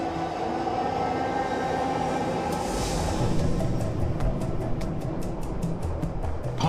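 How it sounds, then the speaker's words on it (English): A London Underground tube train pulls into a station, a loud rumbling roar with squealing brakes and a rapid series of rhythmic clicks as the carriages slow. "And 5 minutes later, a train pulls up"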